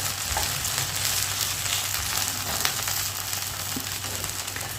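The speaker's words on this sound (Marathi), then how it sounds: "दोन्ही बाजू भाजून घ्यायची म्हणजे छान लागतं गॅस मिडियम आहे" An onion uttapam made with mixed lentil batter fries in butter on a pan over medium heat, with a loud, steady, continuous sizzle and crackle throughout.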